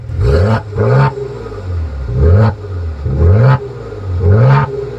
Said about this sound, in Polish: Czy ładnie brzmi wydech w Maserati?